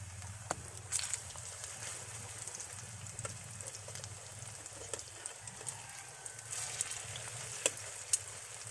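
Food frying gently in a pan over low heat, a steady soft sizzle with occasional small pops and crackles, close and continuous without talk.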